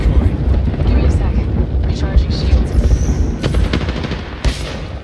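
Gunfire and explosive blasts in the battle royale game Apex Legends, a dense continuous barrage of rapid shots and booms with sharp cracks near the end, game voices mixed underneath.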